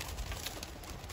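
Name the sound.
pigeons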